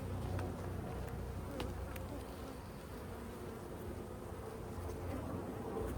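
Honeybees buzz in a steady, dense hum throughout a colony inspection, heard up close and unbroken, with faint scattered handling clicks and no talk.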